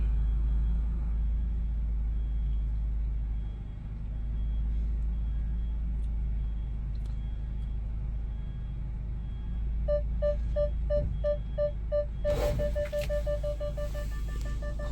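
Reversing a 2025 Hyundai Porter automatic turbo truck, its parking sensor emits a rapid series of short electronic beeps over a low, steady engine rumble, growing busier near the end.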